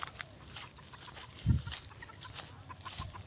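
A chicken out in a backyard, with one short low cluck or flutter standing out midway against a faint steady background hum.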